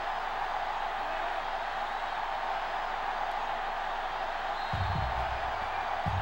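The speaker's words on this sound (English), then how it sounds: "The crowd is going absolutely insane right now." A stadium crowd in NCAA Football 06 roars as a steady, broad wash of cheering noise, with a few low thumps near the end.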